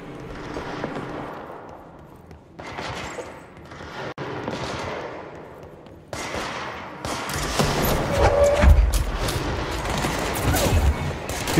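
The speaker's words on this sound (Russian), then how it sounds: "Что за стрельба?" Rapid bursts of gunfire in the video game Control crackle and boom with a synthetic, game-like quality, growing denser and louder toward the end, with no talking.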